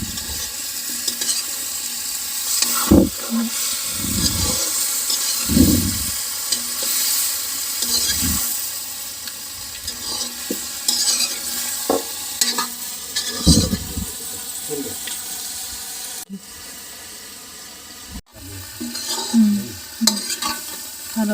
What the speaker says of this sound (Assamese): কোমোৰা দিছে এতিয়া ভাজিব পুৰা ভাজি আছে